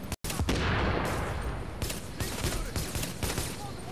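Dense gunfire in The Division's Dark Zone, a continuous fusillade of rapid shots and bursts that fills the whole stretch, loud and close, with brief sharp cracks standing out.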